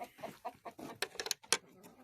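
A hen clucks in a string of short, choppy notes, close by and fairly quiet, with a few sharper squawks near the end.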